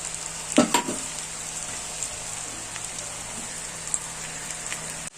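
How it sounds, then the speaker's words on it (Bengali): Meat braising in oil with ground coriander and cumin gives a steady, crackling sizzle, with a few clattering stirs near the start and light pops throughout. "তেল ছেড়ে দিয়েছে, হয়ে গেছে আমার মাংস কষা"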